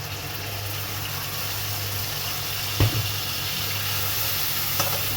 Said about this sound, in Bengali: আমার মোটামুটি আলুটা ভাজা হয়ে গেছে।